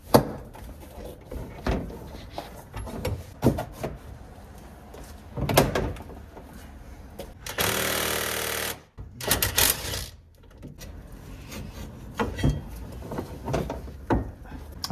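Brake caliper bolts on a Corvette C5 coming loose, heard as close metallic ratcheting, clicks and tool clatter, with a loud burst of an air or power tool in the middle and some talk around it.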